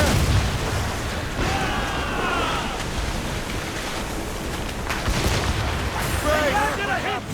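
Ship cannons boom over a constant roar of sea and wind in Assassin's Creed Rogue during a naval battle, with heavy blasts rolling under the surf noise and shouted crew voices cutting in.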